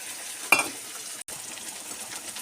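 An egg cracked into a hot pan sizzles with a sharp burst of frying, then a steady crackle of oil continues with a brief dropout midway, fairly close and without voices.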